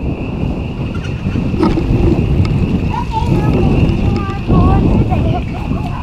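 Gusty wind buffets the microphone in a low constant rumble, with a person talking over it outdoors near a goat pen.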